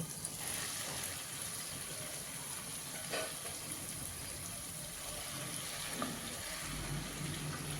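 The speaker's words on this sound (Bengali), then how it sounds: "এবারে কচুর শাকগুলো দিয়ে দেব।" Taro leaves sizzle and fry in a pan with tomatoes, a steady close hiss with faint stirring scrapes throughout.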